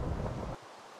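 Heavy rain roars in a survival game, a dense loud wash of noise that cuts off abruptly halfway through, leaving near silence.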